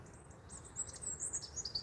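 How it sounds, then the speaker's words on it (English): Small birds chirp and tweet in quick high bursts in the background, fairly faint over a low steady outdoor rumble, during predator fishing. "can you hear the birds singing?"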